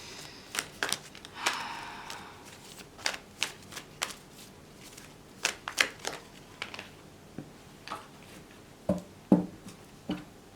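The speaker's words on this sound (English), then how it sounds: "Just 3 more shuffles if anything falls." Tarot cards are shuffled by hand in a series of soft riffling bursts and taps, irregular and close, with no voices.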